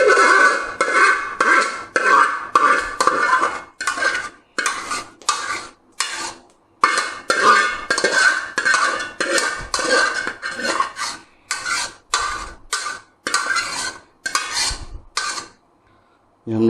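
Metal spoon scraping and clanking against a pot while raw mango pulp is stirred, a steady series of close scrapes and knocks with brief pauses between strokes.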